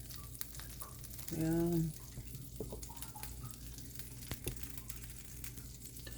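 Sisig frying in oil in a pan gives a steady close sizzle and crackle with faint scattered pops, while a voice briefly speaks over it.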